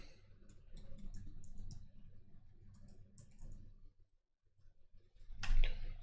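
Keyboard keys clicking in short uneven bursts, close and fairly quiet, with a brief pause before a final louder flurry of taps.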